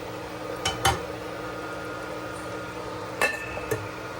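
A metal lid is set onto a cooking pot during cooking. A few sharp clinks come close together, followed by a pause and then another pair of clinks, over a steady background hum.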